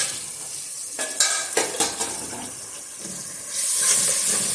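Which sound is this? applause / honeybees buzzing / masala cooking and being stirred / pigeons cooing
masala cooking and being stirred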